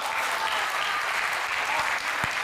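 Dense, sustained applause from an audience at a Hindi poetry recital, a steady even wash of many hands clapping with no pauses, a couple of sharper claps standing out near the end.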